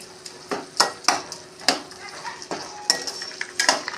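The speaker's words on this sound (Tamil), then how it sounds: "சுண்டக்காய் வதக்கினதையும் வரமிளகாயும் சேர்த்து ஒன்றாவே சேர்த்து எல்லாத்தையும் வதக்கலாம்" Turkey berries and dried red chillies sauté in a pan for sundakai chutney, a soft sizzle under sharp, repeated scraping and knocking of a spatula against metal roughly every half second, close up with no voices.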